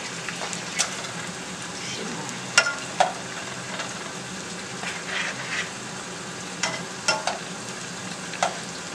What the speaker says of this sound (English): Putting the second batch of shrimp in now.